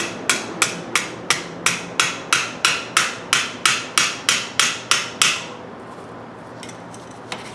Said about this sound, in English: I'm just going to tap this over now with the nylon side